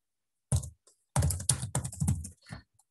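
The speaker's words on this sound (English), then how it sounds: "I'm just gonna type it" Clicky keystrokes on a computer keyboard come in short bursts, a quick cluster of taps followed by a few isolated presses with pauses between, close and fairly quiet.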